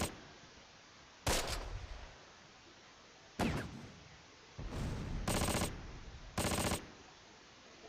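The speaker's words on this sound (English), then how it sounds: "MG34 perhaps? Might even be like an MP40 or something in this range, but it's definitely not an MG42" Close Combat: Last Stand Arnhem video game machine gun fire, a German MG34 or MP40, comes in four sharp, loud bursts separated by short gaps of quieter background noise.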